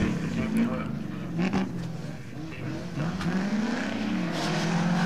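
A Vauxhall Chevette race car revs hard at full throttle during club racing, its engine rising and falling in uneven bursts close by, with sounds of the surroundings mixed in.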